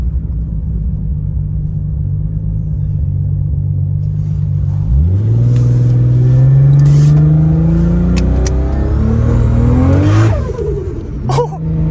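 A Toyota Supra's built 800 to 1000 horsepower engine with a TH400 transmission idles with a low rumble, then revs up hard and climbs in pitch as it accelerates, loud and close, with a brief final surge, on a cold day.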